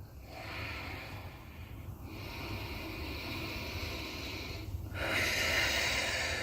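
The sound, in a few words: deep breathing during yoga stretch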